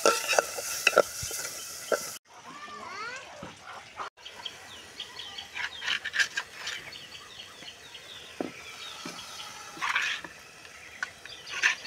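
Spices being stirred in a cooking pot at an outdoor village cook-up of puti fish under trees: a steady stir with soft scraping and a faint sizzle, while birds chirp and call in the background.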